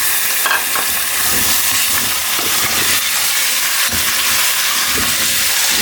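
Beef sizzles loudly in a pot with ginger and garlic, a dense, steady frying hiss with faint scraping stirs, heard close with no talking.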